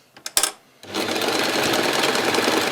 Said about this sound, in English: go to the machine like I am with a 2 to 3mm stitch